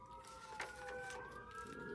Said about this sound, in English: Do you hear all the sirens? We have fire engines going by and police cars.